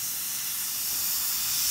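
An airbrush sprays lacquer-based acrylic paint at low pressure, a steady close hiss of air that holds evenly and swells slightly toward the end, with no voices.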